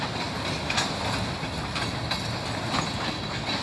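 A freight train carrying containers rolls steadily past nearby, wheels clacking in a continuous rumbling rush with faint periodic clicks from the rail joints.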